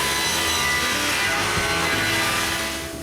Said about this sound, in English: I rip it thinner